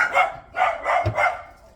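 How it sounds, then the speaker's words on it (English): The neighbors' dogs bark outdoors in three or four rhythmic barks spaced evenly apart, moderately loud and without talk over them. "the neighbors are taking out their garbage, so of course the dogs are barking"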